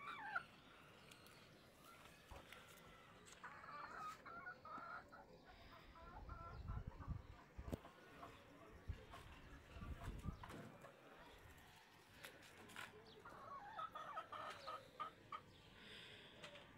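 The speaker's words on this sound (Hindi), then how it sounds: "ये मैंने छत में मुर्गियां भी रखी हुई हैं 5-6" Five or six chickens kept on a rooftop cluck intermittently at close range, with soft calls scattered over a quiet outdoor background and occasional faint talk.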